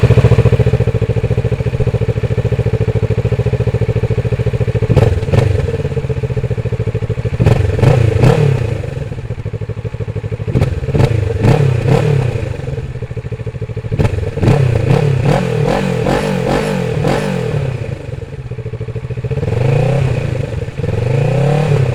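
A 2021 Kawasaki Z650 motorcycle ridden on country roads, its engine droning steadily throughout with repeated rising revs as the rider accelerates through gears, plus wind rush and occasional thumps and rattles.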